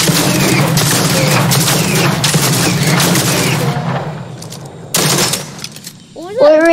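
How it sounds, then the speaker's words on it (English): Rapid pistol gunfire in a video game, a dense loud burst of shots for several seconds. It cuts out, returns briefly with another volley, then fades as a voice speaks near the end. "The premium pistol, my favorite gun."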